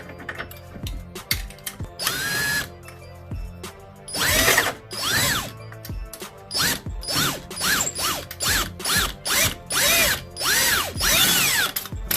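A hand ratchet backing out a strut bolt on a Lexus during coilover removal, with loud rapid clicking strokes in repeated rhythmic bursts at close range and no talking.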